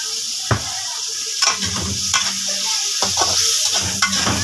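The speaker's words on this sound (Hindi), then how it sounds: "फिर अभी मैं डालूंगा इसमें प्याज। हाँ, प्याज अच्छे तरीके से फ्राई कर ले बच्चे फिर ना।" Onions sizzling with salt in a hot pan while vegetable pasta is being made at home, a close, steady hiss with a few sharp scraping strokes of a spoon against the pan and no talking.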